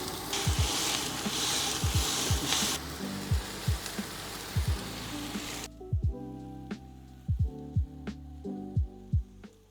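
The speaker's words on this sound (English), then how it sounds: "I've put them on the burger patties to get a bit of extra caramelization as the burgers are cooking" Smash burger patties sizzling on a hot griddle with onions on top, a steady bright hiss under a string of sharp scraping knocks that keep coming as cooking goes on, close and fairly quiet.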